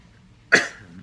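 A single sharp, painful cough from a person recovering from surgery rings out close by, with a short, breathy tail fading into quiet.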